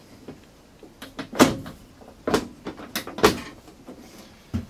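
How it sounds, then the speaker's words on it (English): A Dragonfire UTV door is test fitted, swung open and shut several times, giving sharp close thuds and latch clacks spaced irregularly, with softer handling knocks between. "With our latch installed, we can go ahead and test fit our door."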